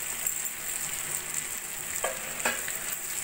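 Pre-fried cauliflower and carrot go into a pan of spice paste cooking for a mixed vegetable dal, with steady close sizzling, a couple of sharp scrapes and stirring sounds over the hiss.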